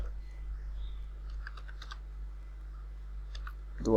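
Typing on a computer keyboard comes as a few scattered soft key clicks over a low steady hum, sparse and close, ending with a brief louder sound.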